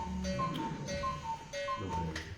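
Steady mechanical ticking of a cuckoo clock at an even pace, joined by bright chiming tones that repeat in a short looping pattern, close and clear.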